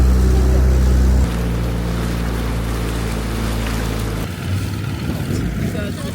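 A loud boat engine drones with a steady low rumble while sailing in the Komodo Islands, Indonesia, then the pitch shifts and the sound changes partway through, with a washy wind-and-water noise.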